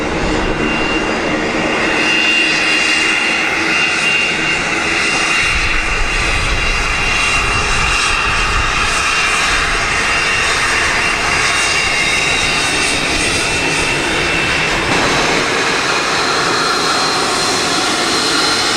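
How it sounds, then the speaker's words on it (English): A business jet taxis and turns at Luton airport, its engines producing a loud, steady whine and rumble that hold constant throughout, close by with a slight shift in tone as it swings around. "D-Cash very quickly turned that aircraft around."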